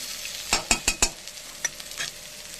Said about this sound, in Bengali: উচ্ছেগুলো শুকিয়ে যাচ্ছিল, তাই ভাবলাম ভেজে নিই।